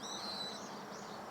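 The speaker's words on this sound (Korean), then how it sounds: "새소리가 들리지" Birds calling in a large countryside garden near a reservoir and the sea, thin high chirps sounding faint and somewhat distant over a soft, steady outdoor background.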